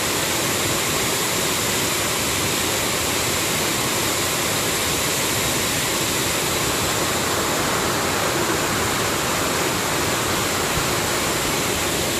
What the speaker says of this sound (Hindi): झरने के एकदम नीचे तल पर आ गए हैं